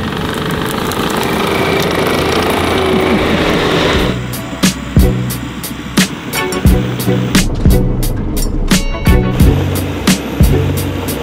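A skid steer with a bucket working dirt on a drift track build site, its engine droning loudly and steadily, then joined by repeated sharp clanks and knocks from the bucket.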